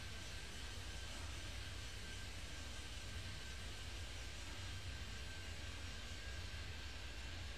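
A steady, broad engine roar of an airplane taking off in the airport control game Airport Madness 3D, continuous and even throughout with a faint thin whine, no talk over it.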